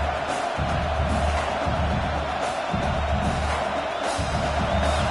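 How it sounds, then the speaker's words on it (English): Football stadium crowd keeps up a loud, steady roar of cheering and noise, with dense crowd sound filling the whole stretch and swelling at moments. "This crowd bringing the energy and noise early."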